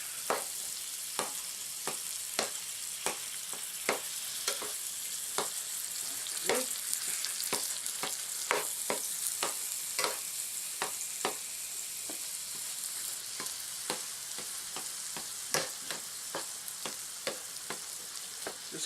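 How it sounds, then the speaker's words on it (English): Three-meat chili being mashed and stirred in a pan, a steady sizzle underneath with repeated sharp scraping strokes of a utensil against the pan at a fairly regular rhythm, close and clear. "mash this in, turn it a little bit"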